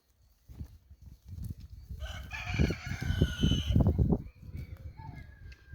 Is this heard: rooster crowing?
yes